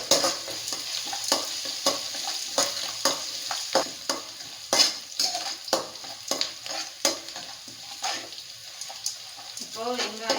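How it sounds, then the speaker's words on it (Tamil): Onion, ginger and garlic sautéing in a pan for a white chana sundal, with steady sizzling and frequent scraping stir strokes, fairly close, under occasional speech. "இப்போது வெங்காயம் இஞ்சி பூண்டு எல்லாம் நல்லா வணங்கிடுச்சு"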